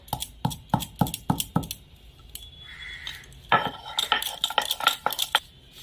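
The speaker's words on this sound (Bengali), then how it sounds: "এখন আমি জায়ফলটা গুঁড়ো করে নেব।" Nutmeg is ground into powder in a kitchen, heard as a rapid series of sharp knocking and scraping strikes followed by lighter, irregular clinks and rubbing, close and fairly quiet.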